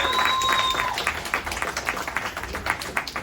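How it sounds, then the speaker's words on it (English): An audience at an armed forces event claps in sustained applause, many hands in a dense patter, while a brief tone fades out near the start. "Come on up, big round of applause."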